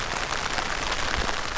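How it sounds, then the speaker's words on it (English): Rain patters steadily on a transparent umbrella, a dense continuous hiss of drops striking the plastic canopy close overhead, with no voices. "just look at these raindrops"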